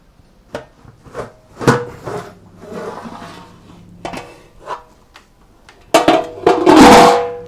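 Lid lifted off a cooking pot set over hot coals, with chicken majboos cooking inside; scattered clanks and scrapes of metal and handling lead to a louder burst of clatter and hissing near the end.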